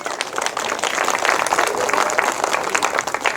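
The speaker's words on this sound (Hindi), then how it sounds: "जोरदार ताली" A crowd claps steadily at an outdoor gathering in Lucknow marking the memorial day of B. R. Ambedkar, dense continuous applause that is loud and fairly near, with no speech over it.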